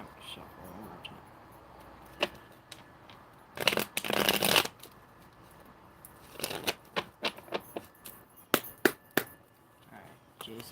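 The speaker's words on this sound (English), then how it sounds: "Let me shuffle one more time." Tarot cards shuffled by hand, a long rustling riffle burst followed by a run of quick crisp card snaps and taps, close and fairly quiet, with no talking.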